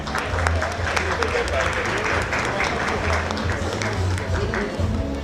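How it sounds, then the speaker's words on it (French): An audience at an awards ceremony applauds the minister with steady, dense clapping from a crowded hall that fills the whole stretch, and a voice may be faintly present under the applause. "On va encore accompagner Monsieur le ministre par des applaudissements."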